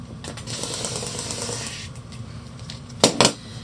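Rotary cutter trimming the sewn edge of bandana fabric on a quilting mat, heard as faint soft scraping followed by two sharp, close cutting crunches near the end.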